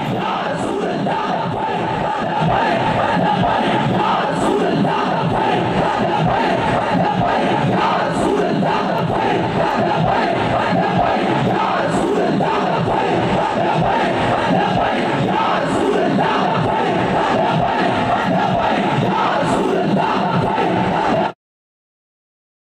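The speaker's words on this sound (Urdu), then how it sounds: "لبیک لبیک یا رسول اللہ کی صدائیں کس قدر بلند ہیں" Dense funeral crowd chanting a religious slogan in unison, a loud continuous roar of many voices with rhythmic swells, sustained for about twenty seconds before cutting off.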